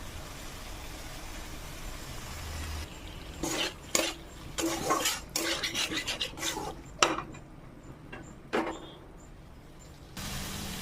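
A spatula scrapes and stirs potatoes and peas through spiced oil in a pan, in irregular bursts of rasping strokes over a steady low background hiss.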